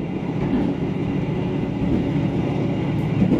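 A train running straight through Gubuk station on Indonesia's Jakarta–Surabaya line, a steady close rumbling roar of rolling wheels and carriages with no letup, no voices over it.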